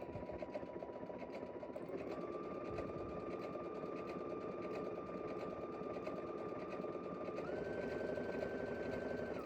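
A sewing machine runs an overcast stitch that steps back, over and forward, giving a steady, close mechanical whir and rapid needle chatter throughout. A faint tonal hum shifts pitch slightly partway through.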